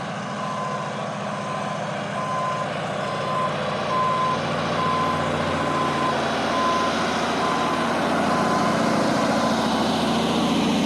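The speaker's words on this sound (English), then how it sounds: "So they got the trucks backing up." Trucks backing up on a street at a night roadwork site, a steady series of evenly spaced reversing beeps over a rumbling diesel engine, moderately close and continuous.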